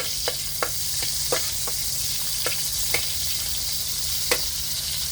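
Pork stir-frying with loofah in a pan sizzles with a steady bright hiss, broken by sharp scrapes and taps as a spatula pushes the meat aside.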